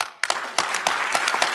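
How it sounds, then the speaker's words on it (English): An audience breaks into applause after a brief quiet moment, with scattered sharp claps building into steady, dense clapping that continues throughout. "Round of applause"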